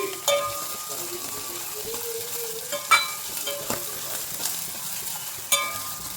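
Onions and green chillies fry in a pan with a continuous sizzle, punctuated by occasional sharp taps and scrapes of a stirring spoon, close up with no talking.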